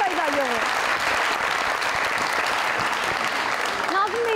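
A studio audience at an Eid talk show applauds, thick continuous clapping filling the room for several seconds, with a voice heard briefly at the start and again at the end.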